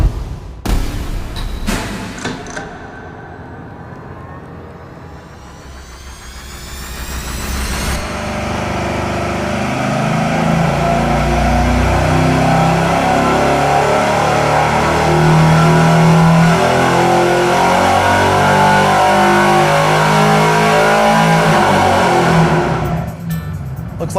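A V8 engine on a dyno runs through straight exhaust pipes with mufflers, a loud, sustained roar that builds after a brief opening rev and holds steady near the mic for most of the run before cutting off.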